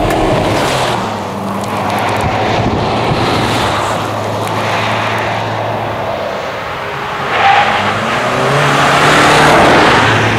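A Range Rover Evoque pulls away from a Dacia Duster on asphalt, giving a loud, continuous rush of engine and road noise that holds steady for the whole stretch and swells slightly near the end.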